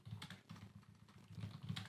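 Computer keyboard typing runs continuously as quick, dense keystrokes, close and fairly quiet, with no talk over it.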